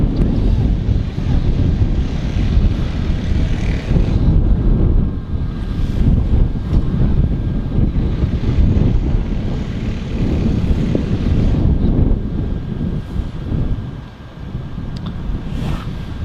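An Air France airliner approaching Manchester Airport, with a loud continuous broadband roar mixed with heavy wind buffeting on the microphone, steady throughout and easing slightly near the end.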